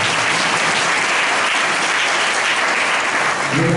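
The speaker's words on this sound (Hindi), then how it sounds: "जोरदार ताली बजाओ इस" A church congregation claps loudly and steadily in a dense, continuous burst of applause at a Hindi-language worship service, filling the whole stretch without pause.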